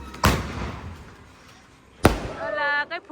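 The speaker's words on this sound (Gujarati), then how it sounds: "અને હમણાં દિવાળી ગઈ ત્યારે ફટાકડા આયા લો" Diwali firecrackers going off: two sharp, loud bangs about two seconds apart, the second followed by a person's voice, with quiet crackling between the blasts.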